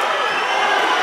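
Loud, dense crowd roar and cheering in an arena during a Lions FC MMA fight, sustained and unbroken.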